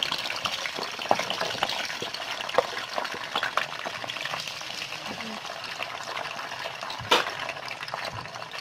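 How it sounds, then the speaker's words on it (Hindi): Steady sizzling and crackling of onions and tomatoes frying in hot oil, with occasional stirring clinks and a faint voice in the background. "ऑयल को मैंने हल्का सा गर्म कर लिया। अब इसमें मैं डालूँगी प्याज, टमाटर"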